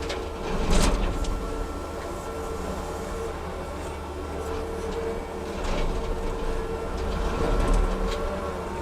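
Brush mower with a heavy disc and blades spinning at maximum RPM gives a steady, loud mechanical drone with rattling and a few sharper swishing surges.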